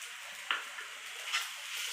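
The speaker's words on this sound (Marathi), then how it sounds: "छान परतून घेऊया" Sabudana khichdi is stirred and sautéed in a pan, giving a soft, steady sizzle with a couple of faint scraping stirs, heard quietly and alone.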